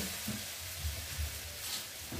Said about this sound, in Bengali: ওইদিকে শাক ভাজা হচ্ছে